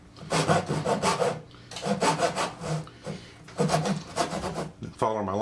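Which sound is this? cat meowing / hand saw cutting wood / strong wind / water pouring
hand saw cutting wood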